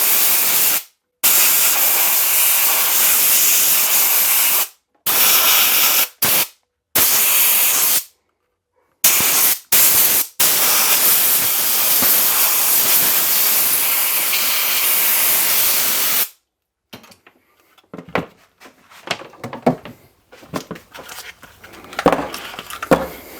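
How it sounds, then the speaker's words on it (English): Compressed air hisses loudly in long continuous blasts over a vacuum-formed dagger holster mold along the sight channel, cut by several brief pauses before the blowing stops and faint handling noises follow. "We're going to put some compressed air along the sight channel,"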